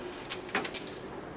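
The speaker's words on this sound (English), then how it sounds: "Damn, I dropped the keys." A set of keys is dropped, giving two short, faint metallic jingles close together against a quiet room background, with no talking.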